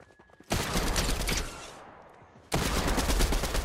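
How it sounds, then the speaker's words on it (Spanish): Fortnite bodycam-style gunfire comes in two long, rapid automatic bursts. The shots are loud and close, with a brief fading gap between the bursts. "¡Y yo disparando a mi colega!"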